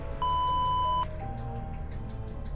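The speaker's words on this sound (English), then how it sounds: "Obscenities were covered by another beep." A single steady censor beep lasting under a second, masking obscenities in a visual novel game, followed by quiet background music with soft chiming notes.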